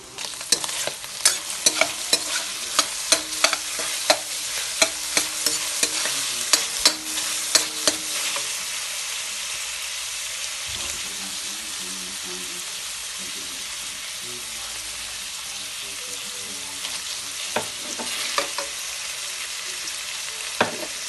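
Ground pork fries and sizzles in a pan for a Filipino eggplant and bagoong sauté, with a steady sizzle broken by repeated sharp scrapes and clinks of stirring, close up, and a voice talking at times.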